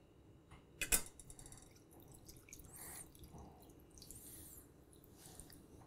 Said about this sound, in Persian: کاری که انجام میدیم اینه که اینو از یک صافی رد میکنیم